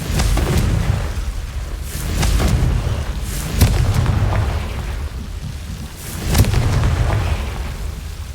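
Confringo spell explosions in the video game Hogwarts Legacy: several heavy booming blasts a second or two apart, each with a rumbling tail over continuous background noise.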